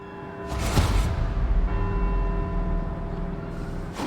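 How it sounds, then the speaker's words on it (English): Church bell towers in Edinburgh ring out in Forza Horizon 4, their sustained tolling tones layered over a low engine-like rumble, with a louder clang early on that lingers and fades. "let's see if we can visit every bell tower in Edinburgh and get back here before they all stop ringing"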